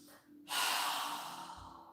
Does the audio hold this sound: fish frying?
no